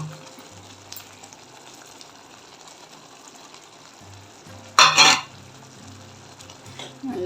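A spoon stirs brinjal kurma in a pan, giving soft intermittent scraping with a sharp sizzling burst partway through and another brief clatter at the end.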